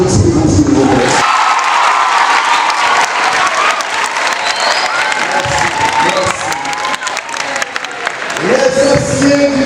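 Students at Collège Saint Gabriel in Lascahobas burst into loud applause and cheering after a director's speech. Shouts and whoops mix with sustained clapping, and a voice is heard at the start and again at the end.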